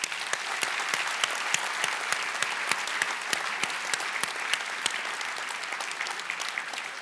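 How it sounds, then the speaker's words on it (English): An awards-ceremony audience gives a round of applause to hard-working volunteers, a dense, steady wash of many hands clapping that fills the hall and runs evenly from start to finish. "Let's give them a round of applause."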